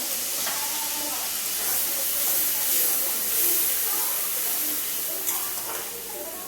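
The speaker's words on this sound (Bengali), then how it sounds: "কাশ্মীরি রেড চিলি পাউডার, একটু জল দেবো, মশলাটা কষবো।" Kashmiri red chilli masala fries in a pan with a little water for a vegetable biryani. A loud, steady hiss and sizzle runs throughout, with small spatters and a faint clink near the end.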